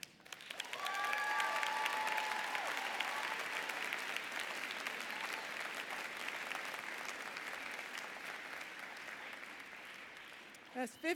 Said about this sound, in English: Please give a round of applause for our most prestigious commencement speaker